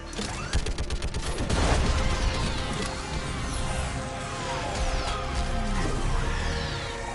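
Gunfire aimed at a giant live Reaper in Mass Effect 3, with loud crashing impacts and sweeping whooshes over a dense battle roar.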